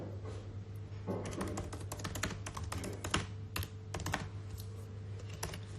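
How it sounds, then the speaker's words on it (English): Rapid keyboard typing sounds close up, a steady patter of key clicks with a constant low hum running underneath and no talking. "Sorry, I'm such a slow typer."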